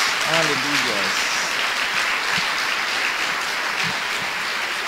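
Church congregation applauding for Jesus, a dense steady wash of clapping throughout, with a voice calling out briefly at the start.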